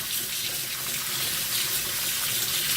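Fresh oysters being rinsed under a running tap in a kitchen sink, a steady hiss of water flowing continuously and fairly close, with no talking over it.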